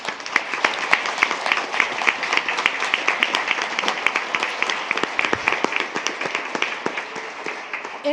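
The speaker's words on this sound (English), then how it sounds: "giving a resounding round of applause for the DSUSD counseling team" An audience at a school district board meeting gives a sustained round of applause for the district counseling team, dense continuous clapping close to the microphone, with scattered louder claps and faint voices underneath.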